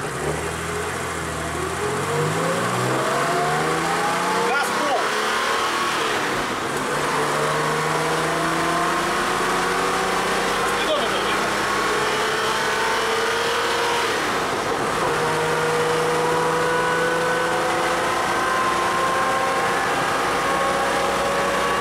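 Mercedes 208 van with an OM603 diesel engine accelerating on a downhill stretch, its engine note climbing through several gear changes and heard steadily from inside the cab over road noise.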